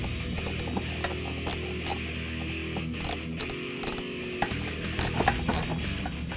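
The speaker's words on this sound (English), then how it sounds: "Now we're holding it in place, we'll reinstall the original retaining nuts." A ratchet clicks in short bursts while original retaining nuts are run onto studs of a short-throw shifter bracket on a 2011-2014 Ford Mustang, close up over a steady background hum.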